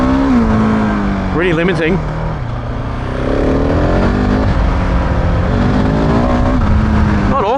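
Husqvarna 701 Enduro motorcycle with stock map 1 riding on dirt, its single-cylinder engine droning steadily and rising in pitch as it accelerates, close and loud, with someone talking over it.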